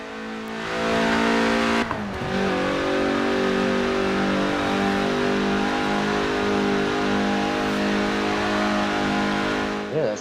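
A 1990s car in Forza Horizon 4 revs loudly and climbs through its gears, a harmonic engine tone rising and falling with a brief gear-change break, close and sustained, with no talk.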